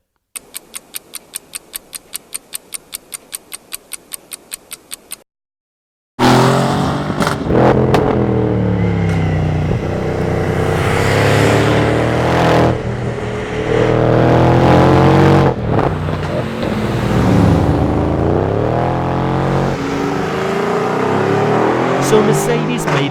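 A Mercedes-AMG GLE 63 S in Sport Plus mode: rapid ticking first, then after a short silence the engine surges with loud, rising revs and gear changes, a voice talking over it.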